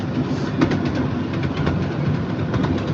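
Miniature train of the Romney Hythe and Dymchurch Railway rolling along steadily, with a continuous rumble and rhythmic clickety-clack of wheels over rail joints, close and fairly loud throughout.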